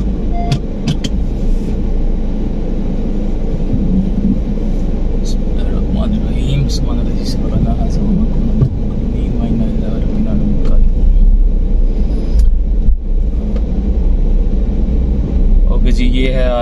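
A Honda CR-Z car being driven gives a loud, continuous engine and road rumble from inside the cabin, with brief clicks and knocks over it.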